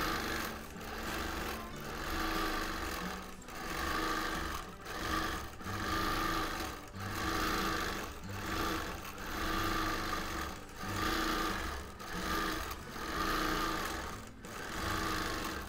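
A Bernina sewing machine whirs through free motion quilting in bursts of a few seconds each, separated by brief pauses, close and steady, with no talking.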